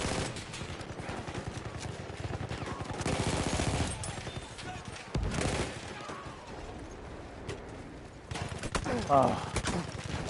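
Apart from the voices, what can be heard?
gunfire from the video game Battlefield 1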